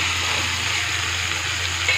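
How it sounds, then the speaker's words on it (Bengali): Chopped vegetables sizzle in hot oil with fried ginger in a pan, making a continuous, close sizzling hiss with a low steady hum beneath it and no speech. "এবার আমি কেটে রাখা সবজিগুলো দিয়ে দিচ্ছি।"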